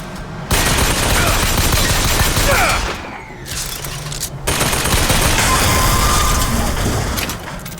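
Dense bursts of gunfire in the shooter game BioShock Infinite, rapid and loud, filling most of the clip with a short lull in the middle before the shooting resumes.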